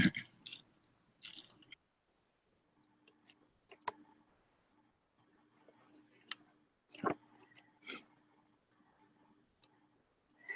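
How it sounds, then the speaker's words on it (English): Someone munching popcorn or chips close to a microphone, giving scattered crisp crunches and clicks in uneven bursts over faint background hum, with quiet gaps between. "I think that's Carlton munching."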